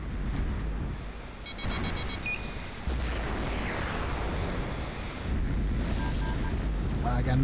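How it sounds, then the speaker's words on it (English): Missile strike explosion in the PC game Vertical Strike, a continuous roaring blast and rumble with wind-like noise filling the whole stretch, with brief electronic beeps over it and swelling again near the end. "Somebody is shooting a missile at me."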